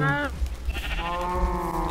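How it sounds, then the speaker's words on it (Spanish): Minecraft sheep bleat with quavering tones in a brief clip, heard under someone speaking Spanish over faint background game sounds. "Vamos a aprovechar aquí de una vez también a alimentar a estas ovejas"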